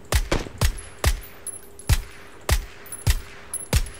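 Gunshots ring out in a video game shootout, about ten sharp, loud cracks fired in an uneven rhythm, some in quick pairs, with no talk over them.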